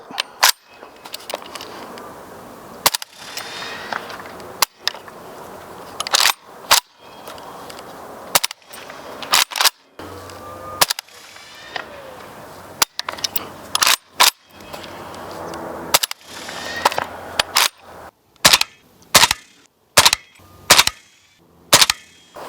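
A suppressed 7.62x39 rifle fires handloaded subsonic rounds repeatedly without cycling, sharp muffled cracks spaced a second or two apart, getting faster toward the end, with faint handling noises between shots.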